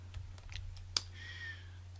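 A single sharp computer mouse click sounds in a graphics program, close and clear over a low steady hum, followed by a faint tonal blip.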